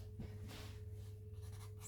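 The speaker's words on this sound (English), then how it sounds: "I'm using a 9B pencil to do this, so that it's very dark and very thick and very heavy" Heavy sketching with a soft, dark 9B pencil on paper, a continuous scratchy scraping of strokes close up and fairly faint over a steady low hum.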